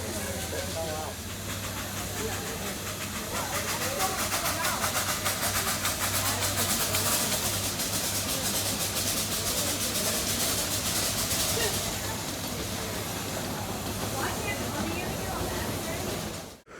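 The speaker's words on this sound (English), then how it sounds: "Then I caught the Kittyland Limited in the distance, moving into the station to pick up a fresh load of passengers." The Kittyland Limited steam train at the Hesston Steam and Power Show moves into the station, a steady loud hiss of steam with a rumbling engine running continuously, then cutting off abruptly at the end.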